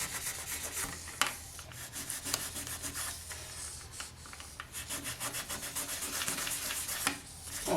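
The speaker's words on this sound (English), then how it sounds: "So it doesn't take much sanding, because you're just sanding away the mica powder." A polymer clay pendant coated with mica powder is sanded by hand in short, uneven rubbing strokes, close and fairly quiet, with brief scraping bursts and no talking.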